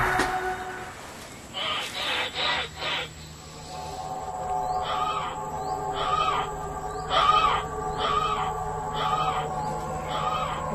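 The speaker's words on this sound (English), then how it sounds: "Yeah, it's just some wild birds." Wild birds call in a forest at night, a steady run of hooting, owl-like calls repeating at an even pace over a constant background hum, with a few brief sounds near the start.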